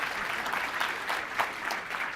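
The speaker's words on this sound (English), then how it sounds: "Everyone clap." Audience applause at a developer tech talk, a steady broadband wash of many hands clapping together at moderate volume, with no talking, holding evenly for about two seconds with small swells.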